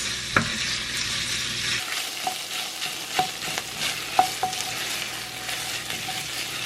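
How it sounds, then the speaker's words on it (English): Tomato paste stirs and sizzles in a beef stew pot, a steady close frying hiss punctuated by a few spoon knocks and scrapes against the pot. "And then mix that up and let it cook for a couple of minutes."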